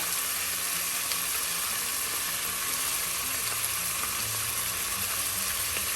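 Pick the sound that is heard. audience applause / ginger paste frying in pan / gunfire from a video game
ginger paste frying in pan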